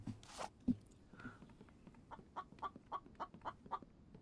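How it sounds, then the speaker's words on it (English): A chicken in the survival game The Infected gives a short run of quiet, evenly spaced clucks near the end, preceded by a few soft scattered sounds. "Was that just a chicken? It was a chicken."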